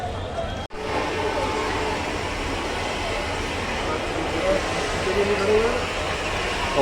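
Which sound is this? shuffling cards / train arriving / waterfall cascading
train arriving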